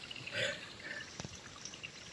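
Clear water flowing in a village stream during the rainy season, a soft continuous trickle and burble with a brief louder splash near the middle, fairly faint and close.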